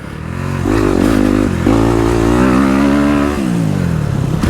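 A dirt bike engine drones loud and close while riding a motocross track in third gear, holding a steady pitch with slight rises and a brief dip as the throttle eases.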